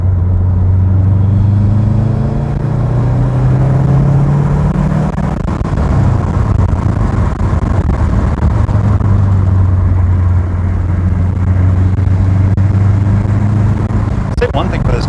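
A 2019 Subaru Impreza WRX STi driving on the road, its engine producing a loud, continuous low rumble with shifting tones as it pulls and cruises, heard from inside the cabin with no talk.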